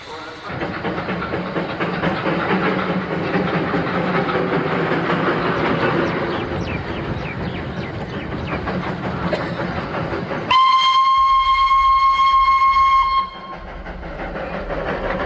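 A class X steam locomotive, no. 37392, runs along the line with a steady rumble and rhythmic clatter of wheels, then a loud, sustained whistle sounds for several seconds before the train noise continues.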